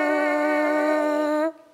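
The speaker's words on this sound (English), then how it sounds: "When we buzz our lips into these mouthpieces, it sounds like this." Lips buzz into a brass instrument mouthpiece, giving one loud, steady, reedy tone that holds for about a second and a half before it stops abruptly.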